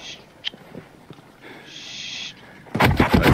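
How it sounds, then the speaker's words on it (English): Gunfire from the tactical shooter game Ghost Recon Breakpoint, with faint shots at first and then a loud burst of rapid gunshots at the end. "I hear gunfire."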